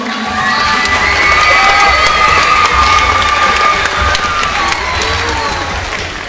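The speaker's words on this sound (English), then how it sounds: "Let's give them a round of applause." A school spring concert audience breaks into loud cheering, shouting and applause, children's voices prominent in a dense, sustained roar of crowd noise.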